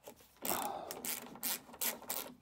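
A ratchet works loose 10 mm bolts on the rear hatch of a 1991 Lotus Esprit under restoration, giving several short bursts of quick clicking close by with brief pauses between.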